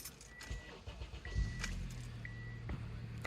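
A 2010 Honda Accord Tourer 2.4 i-VTEC starts up close by: a short cranking, then the engine catches and settles into a steady idle hum, with faint chimes and key clicks around it.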